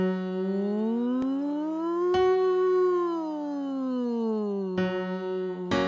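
A single voice sings a smooth, sustained mixed-voice slide rising and falling in pitch, gliding up through its range and back down without breaks.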